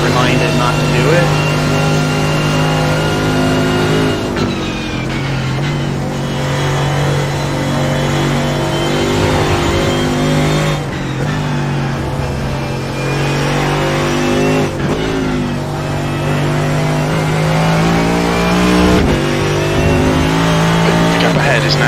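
Race car engine in the iRacing sim at Canadian Tire Motorsport Park, a loud steady drone whose pitch climbs and drops with gear changes and a few brief lifts, with light tire noise and a voice talking over it.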